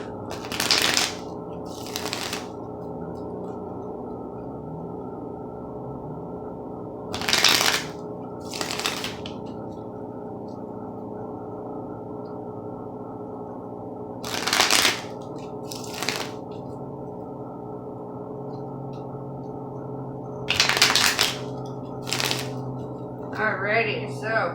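A deck of tarot cards shuffled by hand in several short riffling bursts spaced seconds apart, close and crisp over a steady droning background.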